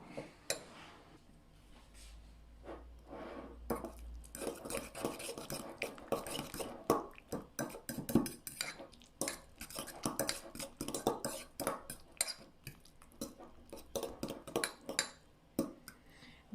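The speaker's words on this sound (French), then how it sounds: "Maintenant, je viens ajouter le jaune d'œuf. Et je mélange encore une fois." A spoon stirring chicken stuffing with spinach and egg yolk in a bowl, giving soft repeated scraping and clinking taps in an irregular rhythm, close and fairly quiet, with no talking.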